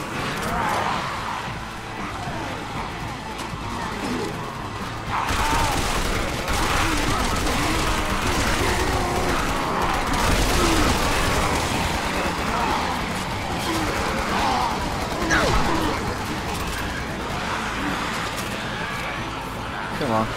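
Gunfire in the Resident Evil 6 Mercenaries mode rattles in dense bursts amid game sounds, continuous and loud, with someone talking over it at times.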